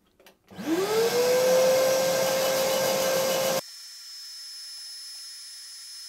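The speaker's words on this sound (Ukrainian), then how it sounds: "я включаю ось такого знизу пилосос" A vacuum cleaner switches on beneath a workbench while a wooden jerkbait pike lure is sanded, its motor whining up to a steady loud roar for about three seconds before cutting off abruptly to a faint hum.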